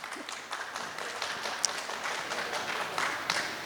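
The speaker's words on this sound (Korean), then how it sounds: "큰 박수 한번 주십시오" Applause from a gathered audience at an outdoor Korean singers' association ceremony after a plaque presentation: moderate, slightly scattered clapping, fairly even and a little distant, with a few sharper claps standing out.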